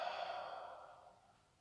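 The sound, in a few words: long exhale during yoga breathing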